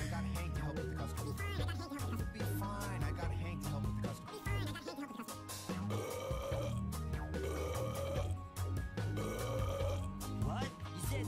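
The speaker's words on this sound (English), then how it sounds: "You say the bed app won't stop burping?" A cartoon bed character from the Talking Tom and Friends app burps repeatedly over a busy music track, the gurgling belches mixed with other voices and sound effects throughout.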